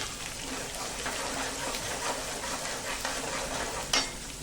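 A tempering of hot oil with spices, fennel, sugar and ginger-chili-garlic paste sizzles steadily and close, with a continuous bright crackle, faint stirring scrapes and one sharper pop near the end.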